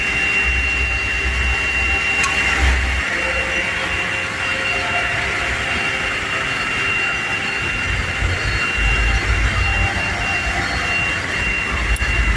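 The 1.5-litre engine of a 2021 Toyota Rush TRD Sportivo with manual transmission runs smoothly at idle, a steady low hum with a faint high whine, continuous and fairly loud, with no speech.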